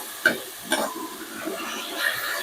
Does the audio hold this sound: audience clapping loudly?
no